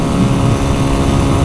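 A Unico BK 200 supermotard with a 200cc engine runs at high speed, producing a loud, steady engine drone blended with heavy rushing wind.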